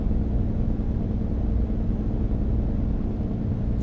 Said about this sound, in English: Engine brake on.